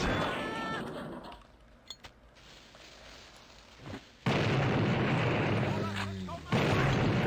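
A grenade explosion in the video game Blood: a loud, broad blast that starts abruptly and roars on, following a quieter stretch with a few scattered pops.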